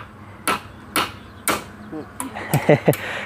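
Hammer blows driving nails into wood while a chicken coop is built, three evenly spaced sharp knocks followed by a flurry of quicker, lighter taps, close by with a little background noise.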